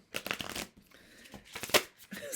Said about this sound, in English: Sorry, that was a terrible shuffle.